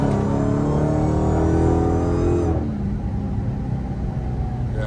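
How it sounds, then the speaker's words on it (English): A Dodge Charger Hellcat with straight pipe exhaust rumbles close and loud, its engine droning with rising harmonic tones that drop away after a few seconds into a lower, rougher idle-like rumble. "That straight pipe never gets old."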